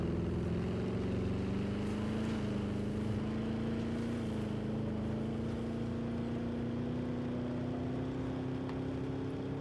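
A vehicle engine drones in Jurassic World Evolution 2, a steady low hum with a gently rising pitch and faint wind-like noise, no voices.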